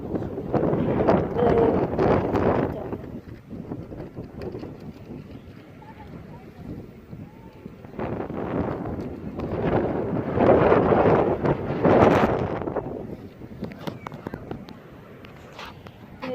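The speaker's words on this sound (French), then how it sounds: "désolé pour la qualité du son, parce qu'il y a du vent, on est à la plage quoi." Heavy wind at a beach buffets the microphone in rumbling gusts that swell and fade, with muffled speech partly buried underneath.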